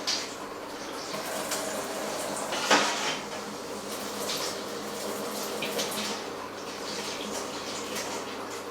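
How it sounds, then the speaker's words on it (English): Sanitizer water washing through a BrewZilla Gen 3.1.1 brewing system makes a steady, close rushing and splashing, with a brief louder gush partway through and faint metallic clinks. "it's probably a good idea just to wash some sanitizer through it"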